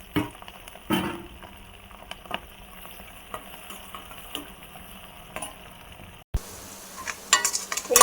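Chopped onion, garlic and green chilli fry in a pan with a faint, steady sizzle, broken by scattered sharp clicks and spoon knocks and a brief louder scrape of stirring near the end.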